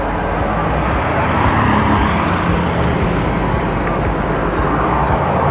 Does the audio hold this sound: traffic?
yes